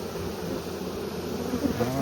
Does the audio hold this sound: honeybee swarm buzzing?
yes